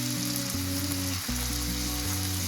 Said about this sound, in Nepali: अरू 5 मिनट जति हामी यसलाई फ्राई गर्छौँ।